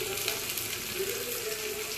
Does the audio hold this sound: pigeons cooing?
no